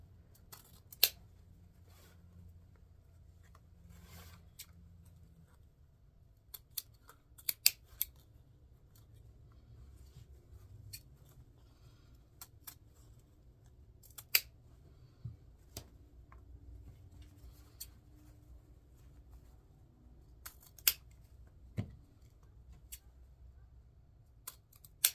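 Scissors snip at an angle through a quiet room: a series of sharp, crisp cuts spaced irregularly, each one short and close, over a low steady background hum with no talking.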